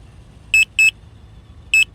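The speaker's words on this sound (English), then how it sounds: "but something is beeping" A Hubsan Zino Mini SE drone gives off four sharp electronic beeps, two close together near the start and two more after a pause, standing out clearly over a quiet low background hum.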